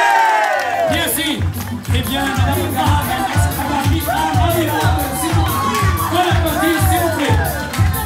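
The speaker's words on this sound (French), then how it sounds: "Applaudissez-lui bien fort, s'il vous plaît" Audience at a Miss and Mister contest in a retirement home applauds and cheers a contestant, rhythmic group clapping and shouts rising under a presenter's voice.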